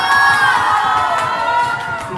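Girls in a science theatre audience at Strasbourg's Fête de la Science cheering and shouting together, a loud, high-pitched crowd roar with scattered claps and stomps that fades slightly toward the end.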